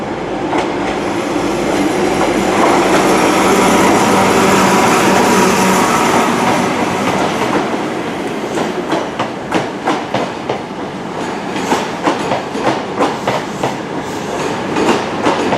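A busy passenger train arriving from Leeds at Plymouth station rolls past close by, a loud rumbling roar giving way to rhythmic clickety-clack of wheels over rail joints as the carriages go by.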